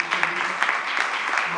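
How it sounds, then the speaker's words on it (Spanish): Audience applause at a trailer presentation for the film Leal 3, a dense steady patter of clapping with a few sharper claps, mixed with voices in the room. "Un aplauso"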